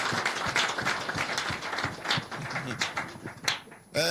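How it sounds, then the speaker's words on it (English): A studio audience claps on a Nigerian call-in television program, a steady patter of many hands at moderate distance that continues for several seconds. "Make una clap for her and her gang members."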